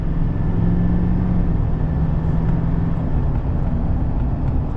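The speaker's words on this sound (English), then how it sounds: "I was barely on throttle there. We were hitting the 2200 plus RPM." A Duramax diesel pickup fitted with a high-output Derringer tuner accelerates, its engine holding a steady, loud low drone with road and cabin rumble and no voices.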